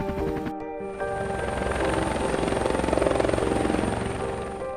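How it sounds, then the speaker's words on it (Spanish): Loud, steady helicopter rotor and engine roar as a rescue helicopter lifts off, its thudding beat building and swelling toward the middle, with no voices. "El soldado que dirigía la unidad de rescate le dio la orden al piloto de despegar"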